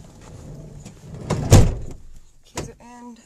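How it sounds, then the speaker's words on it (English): A vehicle door is locked with keys: a loud, close clunk, then a second sharper click, with a short voice after it. "Keys are in. Door is locked."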